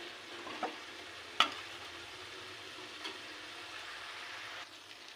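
Fish in spice paste frying in oil for a tomato fish curry, a faint steady sizzle with a few soft scraping stirs and one sharp clink of a utensil, close by with no talking.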